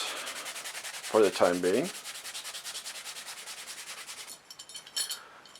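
An abrasive pad scrubs rust off rototiller metal after brake cleaner, a fast rhythmic rubbing scratch at close range with a brief louder burst midway, and a short spoken phrase near the end.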